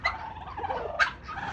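Farm turkeys gobbling close by, a couple of quick rattling gobble calls in rapid succession with no talking.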